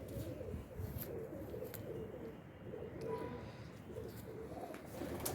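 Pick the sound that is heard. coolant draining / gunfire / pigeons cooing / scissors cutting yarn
pigeons cooing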